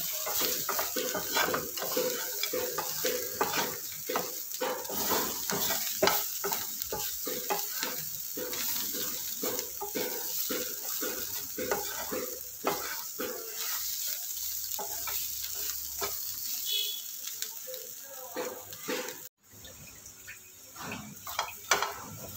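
Bitter gourd slices frying in a pan over medium flame until crisp and red, with a continuous sizzle and frequent rhythmic scraping and clinking of the stirring spoon; a brief pause comes near the end.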